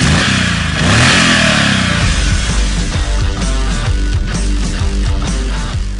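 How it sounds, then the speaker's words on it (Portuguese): A Triumph Thunderbird Commander 1700 motorcycle's exhaust gives a deep, rhythmic throaty rumble, revving up sharply then settling into loud, pulsing blips close by, with no voices. "Até o som de escapamento foi trabalhado para emitir um ronco grave e ritmado, semelhante ao dos motores de dois cilindros em V."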